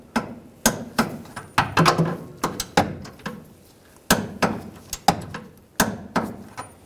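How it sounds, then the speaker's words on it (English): Sharp metallic clicks and clanks from a wrench tightening nuts on a 2014-2018 GMC Sierra 1500 during parking assist sensor work, coming in a steady series of roughly a dozen close, loud hits. "We'll torque these nuts to 52 foot-pounds."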